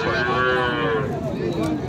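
Sahiwal calves moo loudly and close at Ambari cattle market in Dinajpur, one long drawn-out call sliding down in pitch against the steady murmur of the crowded livestock market.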